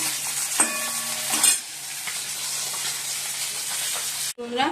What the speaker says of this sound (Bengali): মাছটা এবার ভাজছি